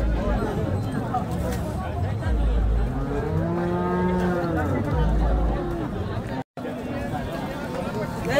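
A breed cow at a cattle market in Karad gives a drawn-out moo close by, with crowd chatter and talking all around.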